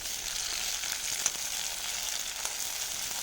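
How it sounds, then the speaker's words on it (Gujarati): Chopped tomato sizzling in a pan with onion and chili, a steady, fairly quiet frying hiss with a couple of faint pops and no talking. "ટોમેટો થોડો શેકાવા દઈએ"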